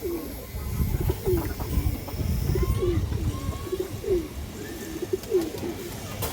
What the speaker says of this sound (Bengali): খুব সুন্দর একটা মাদি কবুতর